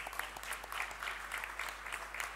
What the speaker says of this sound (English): big round of applause for our jury for participating in this process